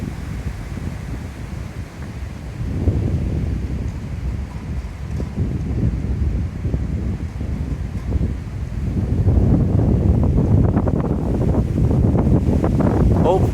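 Strong gusting wind ahead of severe weather in Mississippi roars and buffets the microphone, surging louder in the second half as trees are blown around, with someone talking intermittently.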